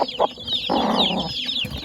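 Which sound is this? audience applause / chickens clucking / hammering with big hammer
chickens clucking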